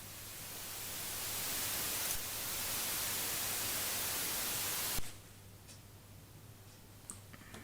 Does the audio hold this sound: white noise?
yes